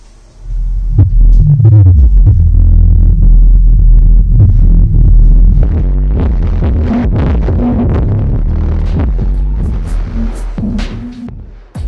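Deep, throbbing low bass pulses play loudly through a Turbosound NuQ subwoofer, a booming rhythmic rumble that fades near the end.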